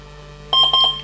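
Electronic speed controller for a model aircraft motor, set for a LiPo battery, sounds a few short, loud, clear electronic beeps in quick succession during throttle programming, with no talk over them.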